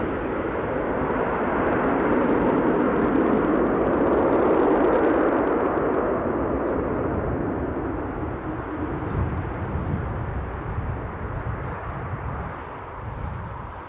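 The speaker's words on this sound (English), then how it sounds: "It's an Air Charter Scotland Cessna 680A citation latitude, just about to overfly us on the way to Kirkwall" Air Charter Scotland Cessna 680A Citation Latitude business jet overflying Newcastle Airport, a broad, moderately loud jet rush that swells toward the middle and then eases away.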